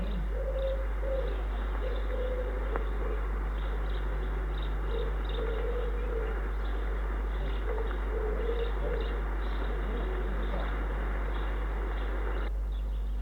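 Small birds call and coo in a robin's woodland habitat, scattered chirps and soft repeated notes set against a steady, loud background hum that runs throughout.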